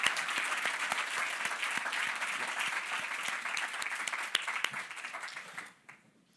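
At a climate adaptation and low-carbon housing challenge finals, an audience applauds the winning teams on stage with sustained, even clapping that fades out abruptly near the end.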